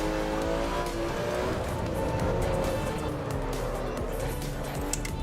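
A race car snapping into oversteer in the racing simulator Assetto Corsa Evo: a loud, steady engine drone with shifting tonal whine and a hint of tire squeal, close and continuous.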